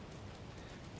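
Heavy rain in the video game Code Vein 2, a steady dense hiss of downpour that holds at an even level throughout the short stretch with no gaps.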